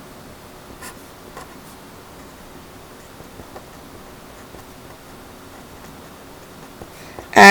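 Pen sketching a rough graph on paper, faint intermittent scratching and light taps against a quiet background, ending in a brief louder rustle.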